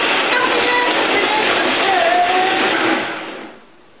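A blender whirs steadily at high speed through a thick cashew cheese sauce, loud and close with a dense roar, then winds down and fades out near the end.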